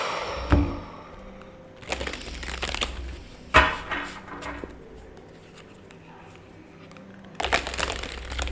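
Tarot cards being shuffled by hand in several separate bursts of crisp riffling and slapping, close and fairly loud, with quiet pauses between them.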